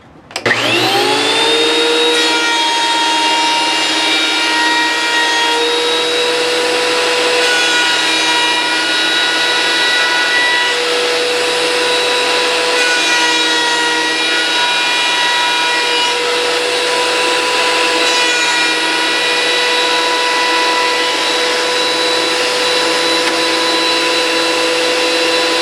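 Wood planer feeding chess board stock through: a loud, steady motor whine with a sharp start, holding evenly for the whole pass with no voices.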